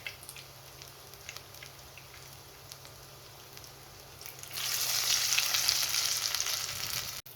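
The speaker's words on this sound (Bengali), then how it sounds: "আর এখানে আমি বেগুনি ভেজে নিচ্ছি" Battered eggplant slices for beguni fry in hot oil: a quiet background crackle that swells midway into a loud, close, continuous sizzle of bubbling oil, with no voices.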